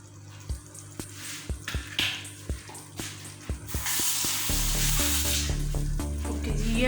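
Cashew paste hitting a hot pan while cooking butter chicken, a few sharp clinks and splats giving way to a steady, loud sizzle that fills the last few seconds.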